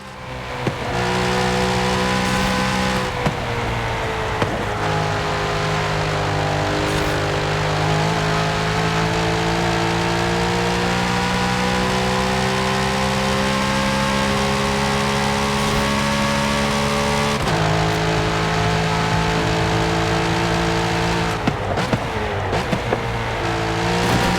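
Loud, close Corvette C8 Z06 engine in Forza Horizon 5, revving and shifting through gears at racing speed with steady harmonic whine, brief dips between shifts and faint tire squeal, continuous for the whole stretch.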